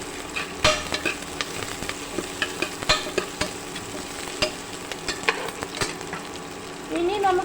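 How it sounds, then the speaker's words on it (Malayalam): Cardamom, cloves and a dried bay leaf are stirred through hot fat in a pan for a meat rice dish, with repeated close scrapes and taps of a spoon over a low sizzle. "രണ്ട് മൂന്ന് ഏലക്കായും ഗ്രാമ്പുവും പട്ടയുടെ ഇല ഉണക്ക അതും ഇടാം ഇട്ട് ഇളക്കി കൊടുക്കാം"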